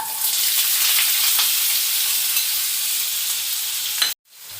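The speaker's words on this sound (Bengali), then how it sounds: "আলুটা ভাজা ভাজা হচ্ছে" Potatoes for Maggi pasta fry in a pan, giving a steady, bright sizzle that holds evenly for several seconds and then cuts off abruptly near the end.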